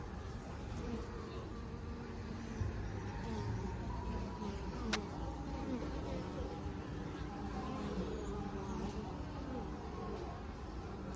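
Honey bees buzz around their hives after rain as they bring in pollen, a steady low hum of many insects close by with faint voices in the background.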